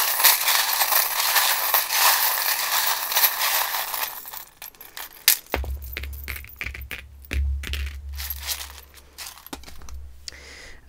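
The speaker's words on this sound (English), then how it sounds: "we've got a couple of charms that have fallen down here" Small metal tarot charms drop and clatter onto a table during a card reading, a burst of light jingling and clinking followed by scattered settling taps, close and alone.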